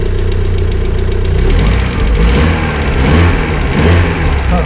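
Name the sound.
car engine knocking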